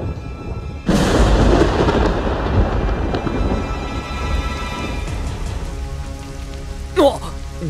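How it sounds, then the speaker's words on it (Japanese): Heavy rain bursts in suddenly and keeps pouring as a steady, loud wash in the Twisted Wonderland video game, with a low thunder rumble at the start and a brief sharper sound near the end. "さっきまで晴れてたのに急にひどい雨だな。"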